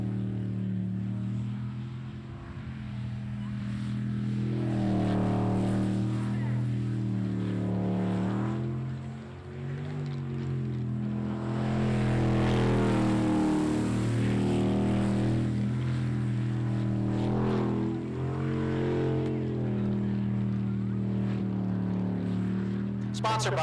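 Racing boat engines, including the Wave Digger 2 boat in a 2015 ASB Pro Racing Series race, drone steadily with rising and falling pitch as boats pass, loud and continuous while a commentator talks over them.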